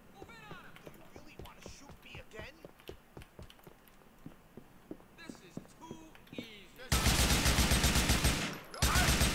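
Gunfire in the video game GTA IV pops in scattered shots under a quiet voice, then a loud, dense burst of noise takes over near the end.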